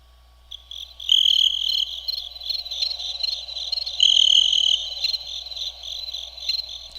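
A crickets-chirping sound effect plays on its own in a quiet room, a dense high trilling chorus pulsing steadily for several seconds at moderate loudness before cutting off abruptly.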